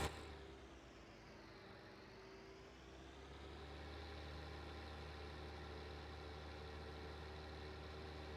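Tractor engine in Farming Simulator 19, a steady low idling drone with a faint rising and falling whine, heard alone and fairly quiet throughout.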